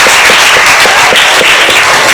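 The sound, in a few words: audience applause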